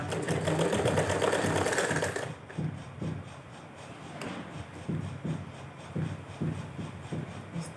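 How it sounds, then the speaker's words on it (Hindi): A domestic sewing machine stitches cloth close by, opening with a fast continuous whir, then slowing into separate rhythmic thumps of the needle as the fabric is fed through. "अच्छे से मिलाते चले जाएंगे और सिलाई को लगाते चले जाएंगे।"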